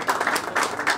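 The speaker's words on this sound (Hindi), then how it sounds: "पहले तो इसके लिए ताली हो जाए।" Applause from a modest audience honoring a music video producer, soft patters of clapping in uneven bursts, fairly faint and distant.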